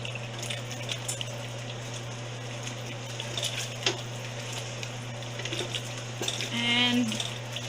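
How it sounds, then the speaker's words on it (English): Filipino chicken curry being stirred in a pot, with soft scraping and sloshing over a steady background hum and a slightly louder stir near the end. "And then I will stir it again."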